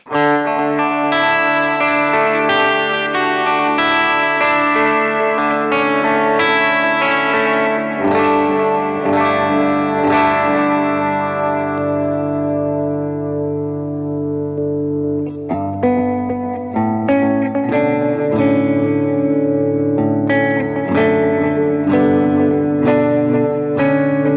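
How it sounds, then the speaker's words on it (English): Electric guitar played through Walrus Audio Aegis overdrive, ARP-87 delay and Slotvar reverb pedals into a Strymon Iridium set as an AC30-style amp, with sustained chords and notes trailing into lush echoes and reverb, playing alone without talk. "The Walrus audio pedals, the Aegis overdrive, which I think is a fantastic low gain to medium gain drive, the ARP87 delay, and the Slotvar reverb."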